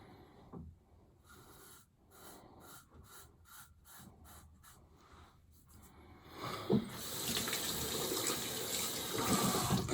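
Tap water runs while wetting up for a shave, first in brief intermittent splashes and handling noises, then a steady, louder stream pouring from the faucet in the latter half.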